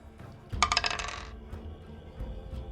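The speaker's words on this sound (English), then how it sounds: "So roll again. So again, 2 dice." Two dice tumble and clatter across a table in a single quick burst during a Blades in the Dark tabletop roleplaying session, a bright rattling roll that settles within about a second.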